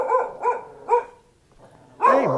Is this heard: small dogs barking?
yes